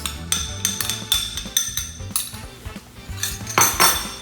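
A lemon being zested with a metal zester in a teaching kitchen: a run of quick, uneven scraping strokes with sharp metallic clinks, close and fairly loud, with no talk.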